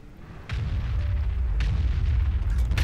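FV4005 Stage 2 tank firing its large cannon in World of Tanks: one heavy boom with a sharp onset and a deep rumbling tail, plus fainter crackles after it.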